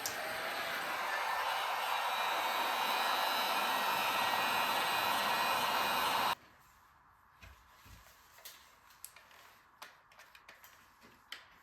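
A heat gun on a low setting blows a steady, loud airy hiss for about six seconds while shrinking tubing during servo wiring, then cuts off abruptly, leaving quiet handling clicks and small taps.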